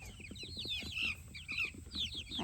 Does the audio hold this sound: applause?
no